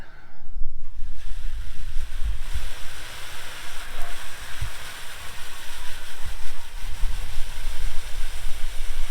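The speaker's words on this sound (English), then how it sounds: "We are going to pressure rinse this." Pressure rinsing of a house AC condenser gives a steady, loud broadband hiss of water spray that runs the whole way through without a break, and no one speaks.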